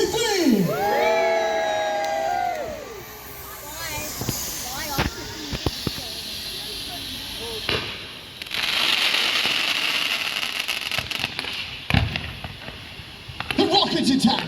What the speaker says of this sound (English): Let's have a cheer.